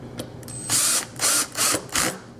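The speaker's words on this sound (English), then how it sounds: "I've switched to a drill and I have it set on the lightest tension." Power drill on its lightest clutch setting driving pan head screws for a sliding door, four short whirring bursts in quick succession, close and fairly loud.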